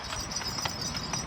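Horse hooves clop on a mountain trail near Saif-ul-Malook in Naran, giving a quick, close, rhythmic series of hard hits over a steady hum of outdoor noise.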